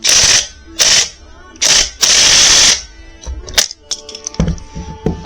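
Ratchet working on a stuck 13 mm lug nut of a Yamaha Blaster ATV, heard as four loud, close bursts of rapid clicking followed by quieter scattered metallic clicks and clanks.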